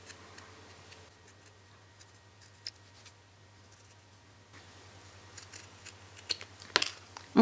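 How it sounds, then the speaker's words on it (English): Scissors trim bulky fabric from the seams of a small handmade elf shoe: quiet, scattered snips close by over a low steady hum, with a few sharper cuts toward the end. "just cut off anything that's bulky like that"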